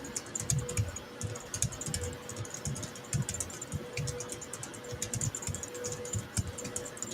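Fast, continuous clatter of keys on a computer keyboard, close and fairly loud, with an irregular rhythm of rapid key strikes and no voices.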